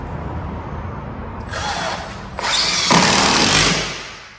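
A power drill drives a longer screw into a door fitting, whirring in two close, loud bursts that build in intensity, with no talking.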